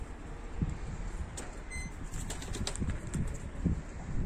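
Young pigeons launching into flight, with bursts of flapping wings and a few soft coos over a steady outdoor background hum.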